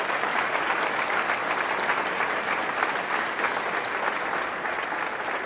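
Sustained audience applause at a Milwaukee State of the City address, recognizing the churches involved; dense, steady clapping from a large crowd continues evenly throughout without speech.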